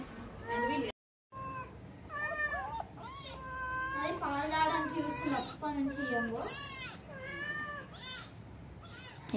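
A cat meows and yowls outside a house in the middle of the night, a string of close, drawn-out wailing calls with short gaps between them, loud and without other noise.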